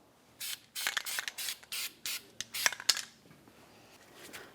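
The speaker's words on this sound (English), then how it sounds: "use some copper never-seez on the mating surface of the bearing hub" Short bursts of copper anti-seize spray on the mating surface of a wheel bearing hub during control arm work on a 2009-2019 Ford Flex, about eight separate hisses in an uneven rhythm, close and fairly loud, with no talking.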